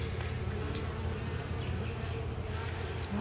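Honey bees buzz in a dense, steady drone at an open hive during an inspection, a close and continuous hum with no voices over it.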